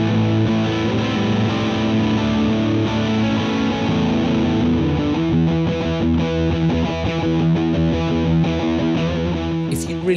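A thick, saturated Big Muff-style fuzz pedal tone with tone control plays sustained guitar chords and notes, buzzing and gritty, loud and alone with no voices.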